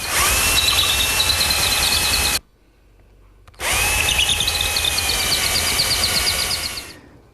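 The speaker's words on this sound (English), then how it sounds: "I just clamp it in place and drill the holes." A power drill bores holes through a clamped hardwood jig for a chop saw station, whining loudly in two sustained bursts separated by a short pause, with no talking.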